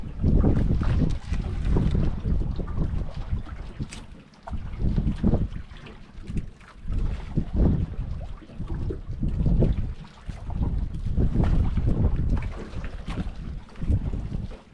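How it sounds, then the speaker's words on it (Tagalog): Strong wind buffets a fishing boat out at sea, roaring in loud gusts that rise and fall against the microphone. "Bartang hangin na."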